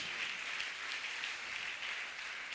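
Church congregation applauding and cheering during a French-language worship service, a dense, steady wash of clapping that stays loud and even throughout with no pauses.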